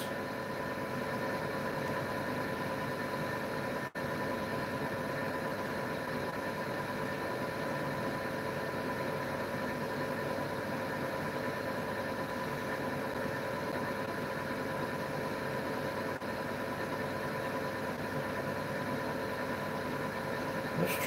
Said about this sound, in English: Tractor's slow.